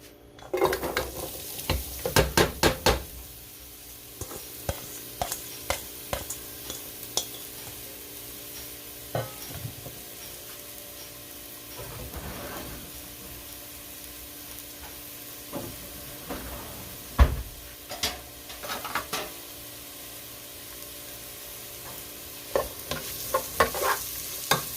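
Vegetables sizzle in a pan of regular vegetable oil as a spoon stirs them, scraping and clacking in bursts against a steady frying hiss, with quieter stretches between the stirring, heard up close with no talking.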